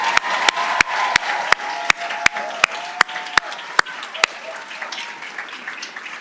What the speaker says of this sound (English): give a round of applause to your peer mentors